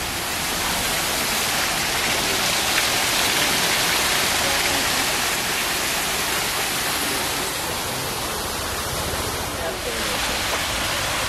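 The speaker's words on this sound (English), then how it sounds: "See if I can get to the waterfall." A waterfall on a New York trip, heard as a loud, continuous broadband roar of falling water that holds steady for the whole stretch with no clear talk over it.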